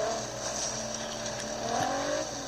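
Hummer engine labouring off-road in Forza Horizon 3 during rock crawling, a steady low rumble with faint tire and mechanical noise throughout, no talk.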